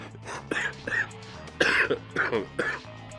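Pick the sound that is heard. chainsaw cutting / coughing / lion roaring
coughing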